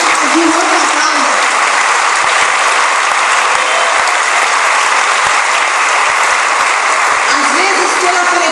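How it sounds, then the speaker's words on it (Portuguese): A congregation at a church gathering claps in a loud, dense wash of applause that runs unbroken throughout, with a voice faintly heard beneath it. "Pare de aplaudir."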